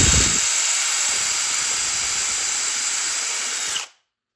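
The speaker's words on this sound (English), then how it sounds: "Watch, I'm only drilling into pine." A loud, steady high-pitched drill whine with a harsh hissing grind as a countersink bit bores into pine, running continuously for several seconds before cutting off abruptly.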